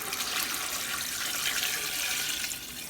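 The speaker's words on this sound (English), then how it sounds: "I'm going to add some water to the pot," A steady stream of water, about two cups, splashing into a pot of oxtail stew, bright and continuous, close by with no talking.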